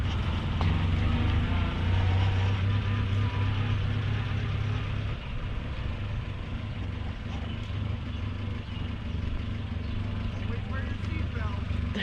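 A 1988 Ford Festiva with a freshly repaired clutch is driven, its small engine giving a continuous low drone and road rumble from inside the cabin, steady throughout.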